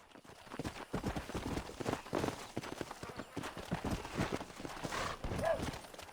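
Horse hooves clip-clop in a steady galloping rhythm in Red Dead Redemption, loud and continuous throughout, with a voice talking over them at times.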